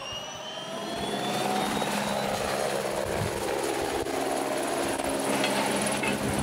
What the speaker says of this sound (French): L'hélicoptère achemine les pièces une par une.